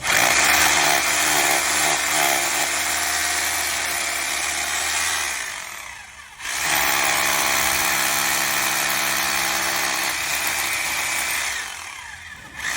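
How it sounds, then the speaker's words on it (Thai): A corded rotary hammer drill bores into a hard beam with a loud, continuous grinding roar, broken by one short pause before the drilling resumes just as loudly and close. "เดี๋ยวเรามาเจาะคานกันให้ดูนะคะ นี่คานแข็งๆเลยนะอ่ะเริ่มเลยพี่ช่าง"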